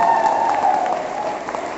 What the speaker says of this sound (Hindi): जोरदार तालियों से स्वागत में होती है।